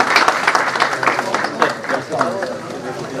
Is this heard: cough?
no